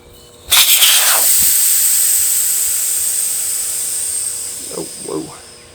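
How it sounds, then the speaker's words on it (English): Air hisses loudly and steadily out of a riding mower tire's valve stem, starting abruptly and fading slowly over several seconds, with brief murmured voices toward the end. "First thing you want to do is let the air out so you can unseat it from the wheel."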